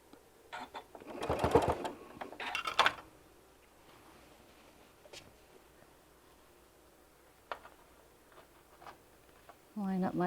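Sewing machine stitching bean bag fabric, heard as faint mechanical ticking and short whirring runs, with someone talking over the start and again at the very end.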